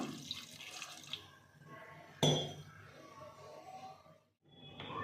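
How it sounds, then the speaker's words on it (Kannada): Water splashes into a cooking pot in a home kitchen, with a sharp clink in the middle, a brief quiet gap and trickling before and after. "ಈಗ ಇದಕ್ಕೆ ನೀರು ಇನ್ನೊಂದು ಸ್ವಲ್ಪ ಹಾಕ್ತೀನಿ ನಾನು"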